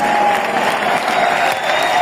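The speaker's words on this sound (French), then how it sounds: "un tonnerre d'applaudissements" Huge stadium crowd at Marseille's Stade Vélodrome during a concert, a continuous roar of applause and cheering, broad and distant with a thin whistle-like tone drifting through.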